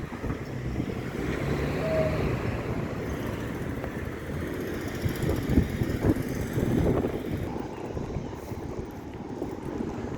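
Outdoor wind on a spring day in Canada, a steady broadband rush and rumble buffeting the microphone throughout, with a brief gustier swell midway.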